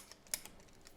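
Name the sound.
clicking of a tape device being loaded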